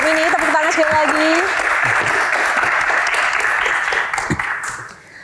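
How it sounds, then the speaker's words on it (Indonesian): Audience applause fills an indoor Q&A stage event, loud steady clapping that fades toward the end while a voice talks over it. "Tepuk tangan sekali lagi."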